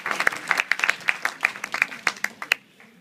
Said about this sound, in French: qu'on peut applaudir aussi parce que c'est très joli ce qu'il fait